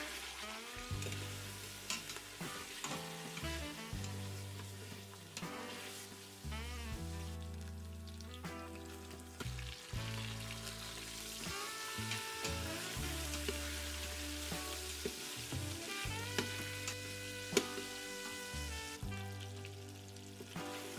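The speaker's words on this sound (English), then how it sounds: "Sauté the meat on each side for about 3 minutes" Beef sautéing in vegetable oil inside an Instant Pot gives a continuous sizzle and frying crackle over the whole stretch, with music playing over it and no talk.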